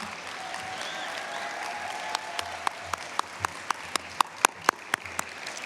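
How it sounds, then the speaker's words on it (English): Applause at a Latinx youth conference, starting as a broad crowd patter and then narrowing to a few sharp, close, evenly spaced claps that ring out one by one near the end. "Let's give him one more round of applause."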